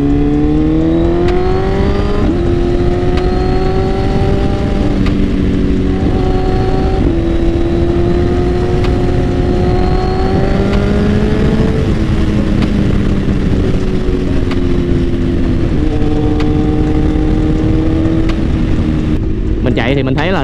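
A Suzuki GSX-R1000R engine in riding mode B runs loud and close, its tone climbing through repeated rev rises and gear shifts with a constant wind rush and no break in the sound.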